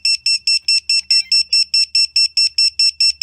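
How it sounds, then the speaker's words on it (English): A small FPV racing drone's beeper sounds during receiver binding, a loud, rapid, evenly spaced series of shrill electronic beeps repeating about four times a second without pause, with no talking. "My beeper is on because I have already set my beeper to be on the on position"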